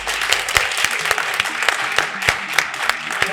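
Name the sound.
audience applauding loudly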